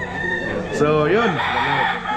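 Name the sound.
roosters crowing on a chicken farm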